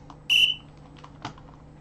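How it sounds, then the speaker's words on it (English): A short, sharp high-pitched whistle sounds once in a quiet room during a chess blitz broadcast, followed by a faint soft click or tap. "I don't know how to stop that whistle"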